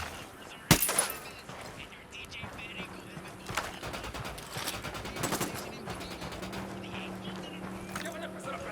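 Gunfire in the Ghost Recon Wildlands video game: a sharp, loud shot near the start, then scattered bursts and crackling reports under background game noise and occasional voices.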